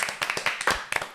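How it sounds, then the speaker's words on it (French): A few people clap briefly in a small room during a casual chat, a quick run of about eight close, crisp claps in a loose rhythm. "On applaudit."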